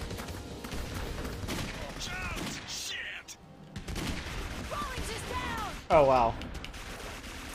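Gunfire in Clive Barker's Jericho, with sniper rifle shots among a string of loud cracks and thumps. Voices talk and exclaim over it, and there is a brief pause midway.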